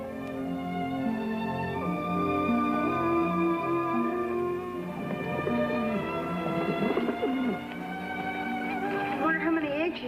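Band-tailed pigeons coo at the nest, soft repeated cooing laid over orchestral music from a 1954 Lassie episode.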